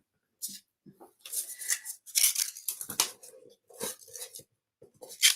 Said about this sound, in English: then you can just take your X-Acto knife and trim up the edge